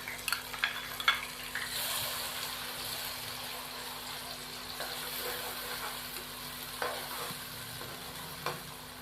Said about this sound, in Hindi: अब मैं इसके अंदर 2 प्याज शामिल करूंगा चॉप किए हुए।